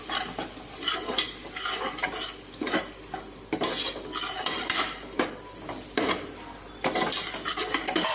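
A spoon stirs a thick biryani masala mixture in a pot, scraping and clinking against the metal in steady repeated strokes over a faint background sizzle, close and continuous with no voices.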